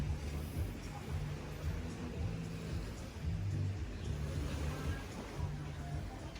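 A steady, low rumbling wash of sea surf at Hua Hin fills the air, faint and continuous, with low voices murmuring underneath.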